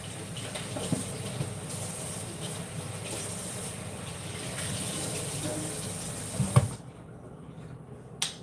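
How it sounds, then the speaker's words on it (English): Water runs steadily from a tap as hands are washed at a sink, a continuous splashing gush that stops abruptly near the end, followed by a brief clunk. "Wash my hands again and again and again and again."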